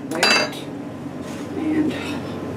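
A metal spoon clinks and scrapes against baking pans while a chocolate cake is prepared, with a sharp cluster of clinks at the start followed by a couple of softer taps, close and fairly loud in a quiet kitchen.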